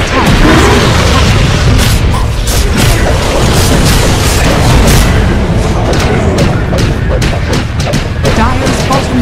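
A tower crumbles in Dota 2 amid loud, dense booms, crashes and rattling gunfire-like impacts, a continuous chaotic din of battle with close, heavy hits.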